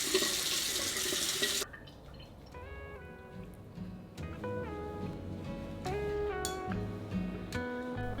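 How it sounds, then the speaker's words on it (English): Tap water gushes into a sink during face washing for about a second and a half, then stops, leaving quiet close-up splashes and drips under faint background music. "I'm gonna wash my face"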